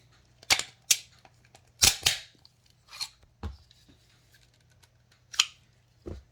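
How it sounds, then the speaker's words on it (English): A pistol magazine loader pushes rounds into a magazine, giving a handful of sharp, isolated metallic clicks and snaps spaced irregularly, close up, with quiet gaps between them. "push them using this tool"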